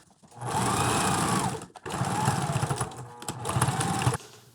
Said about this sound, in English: Now we are sewing through a couple layers here. So there's little domestic machines.